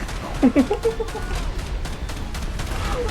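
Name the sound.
gunfire from a video game (GTA5 Metal Slug mod)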